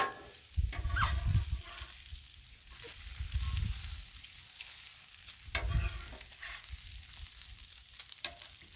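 Bacon frying on a griddle, cooked crispy for a breakfast-for-supper meal, gives a steady close sizzle that swells and fades in a few louder bursts, with occasional scraping and no speech.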